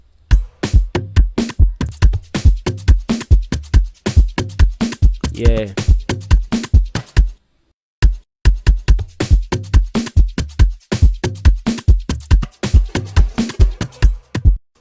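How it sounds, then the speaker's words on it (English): An Amapiano snare drives an Afrobeats drum groove, punchy hits repeating in a tight rhythm, pausing briefly midway before resuming; someone murmurs once in passing. "what I added next was this amazing Amapiano Snare"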